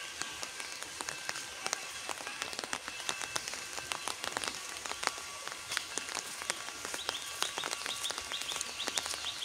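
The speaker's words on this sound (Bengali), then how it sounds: "ভারী বৃষ্টিপাত হইতেছে।" Heavy rain falls on waterlogged paddy fields, a steady wash of drops with sharp close patters and splashes scattered through it, moderately loud and continuous, with no voices.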